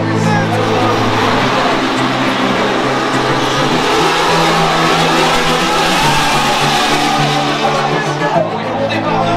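Formula 1 cars roar away from the race start at the 2022 French Grand Prix, a loud, dense wall of engine scream rising as the pack accelerates past, with crowd noise blended in and a commentator talking over it.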